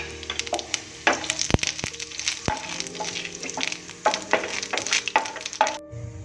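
Cumin seeds dropped into hot oil for masala poha sizzle and crackle loudly up close, with rapid popping and stirring scrapes throughout and a steady frying hiss underneath.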